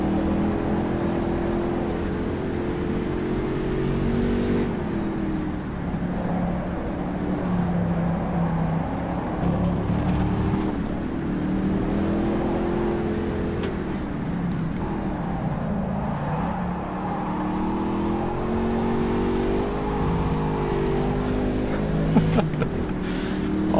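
Panoz Roadster race car engine in the racing game rFactor 2 at Putnam Park, a loud, continuous engine drone that rises and falls in pitch as it revs and eases through corners.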